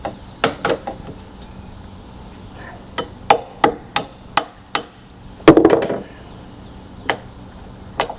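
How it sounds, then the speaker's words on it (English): A hammer drives into wood while a deck is being built outdoors, sharp separate blows landing at uneven intervals, close and loud, with a short scraping clatter in the middle. "I happen to have a hammer right here, just for you."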